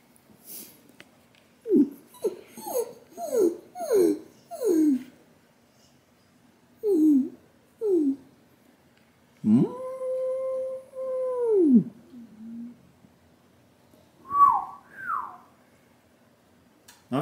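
A dog named in the talk repeats a drawn-out vocal sound: several short yelping howls in a quick series, then a long sustained howl, and a final pair of rising whines, close and loud with no talk over them.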